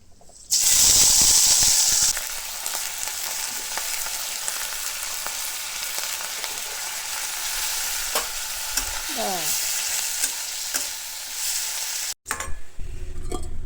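Tengra fish frying in hot oil, a steady close sizzle that starts with a louder burst as the fish goes in and then settles into a constant crackling hiss.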